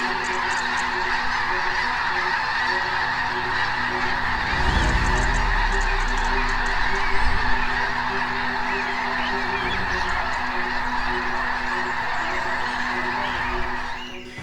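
A flock of geese keeps up a dense, continuous chorus of honking, loud and overlapping throughout with no pauses.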